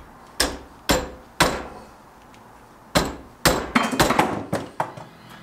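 A hammer strikes the metal guard of a Rambo-style Bowie knife being assembled, sharp close ringing blows, first three spaced hits then a quicker cluster of taps.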